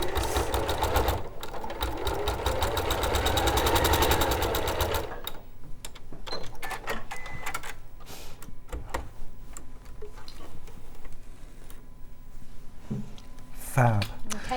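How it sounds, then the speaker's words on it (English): A sewing machine stitches a row of pleats on a pixelated rose quilt with a quarter-inch seam, a fast, loud, steady run of needle strokes for about five seconds, then quieter ticking stops and starts with faint talk. "So I'm going to sew down again with the quarter."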